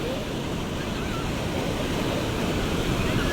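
Big ocean waves roll onto Thiruvanmiyur beach in Chennai, a steady loud broadband roar of surf with wind buffeting the microphone throughout, no break in the wash.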